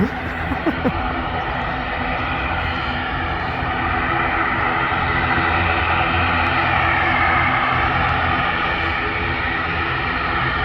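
Airliner passing low over the Southside viewing park at Manchester Airport, its broad engine roar steady and loud for the whole stretch.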